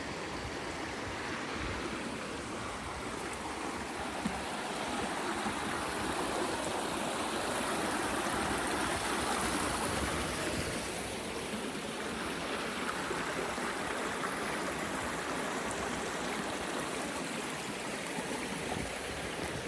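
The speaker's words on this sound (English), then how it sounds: "Love the sound of the running water." Running water of a stream near a big pond, a faint, steady rushing burble that flows on evenly with a slight swell midway, heard alone without voices.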